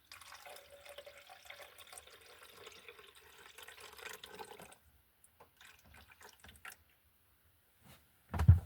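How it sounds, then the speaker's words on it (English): Water pours into the back chamber of a coffee maker, a soft steady trickle for several seconds, then a few faint drips and knocks, ending in a loud close thump. "I think I need to pour the water in this back."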